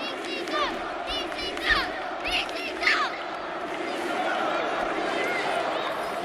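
Wrestling crowd at a hardcore match in Scranton, Pennsylvania, shouting and chanting in bursts of whoops and cries, fairly distant and echoing, swelling into a sustained roar toward the end.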